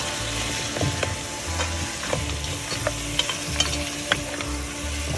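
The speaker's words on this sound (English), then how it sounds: "Now we are going to do is add our meat in here, and we are going to cook this with the masala." Meat frying with masala for gobhi gosht, a loud continuous sizzle with repeated stirring scrapes and occasional utensil taps on the pot, close, with a low rhythmic rumble underneath.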